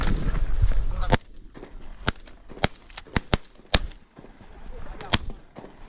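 Shotgun blasts ring out during a late-season goose hunt, about seven or eight sharp loud reports in an irregular spread after an opening stretch of noisy rustle, with faint voices in between.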